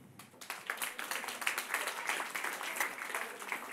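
Applause from a stand-up comedy audience, a steady wash of many hands clapping at moderate distance, sustained throughout after a brief quiet start.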